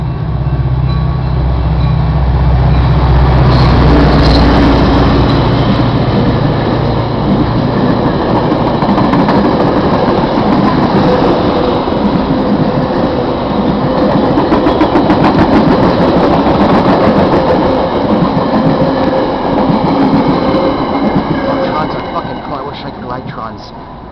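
A Metra commuter train passes at dusk in Downers Grove near Chicago, a loud, steady rumble and clatter of cars rolling by up close that lasts throughout and fades slightly at the end.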